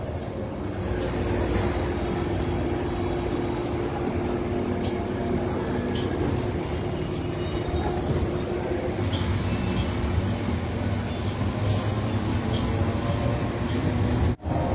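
A passenger train running from Asansol toward Purulia rumbles steadily nearby, with continuous low roar, rattling wheels and occasional metallic clinks throughout.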